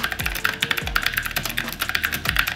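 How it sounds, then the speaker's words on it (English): Typing on a mechanical keyboard with clicky blue switches, a quick run of sharp, close clacks with a few deeper thuds from larger keys, loud and alone. "the clicky blue switches, they are nice"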